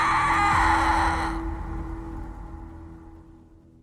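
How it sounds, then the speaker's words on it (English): A single long, loud, blood-curdling scream for about a second and a half, then fading into a decaying, reverberant tail; no speech. "blood-curdling scream."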